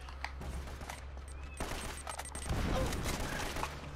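Blind-fired gunfire in Uncharted: Drake's Fortune, a quiet, scattered volley of shots with rattling bursts. The bursts grow denser toward the end over a low background hum.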